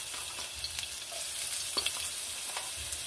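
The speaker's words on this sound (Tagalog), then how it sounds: "Gisa na po natin, guys. Lagay po tayo ng mantika. Kunti lang. Siyempre, lagay po tayo ng garlic." Garlic sautéing in a little cooking oil for pork belly hamonado, a soft steady sizzle with occasional light crackles and faint stirring, no voices.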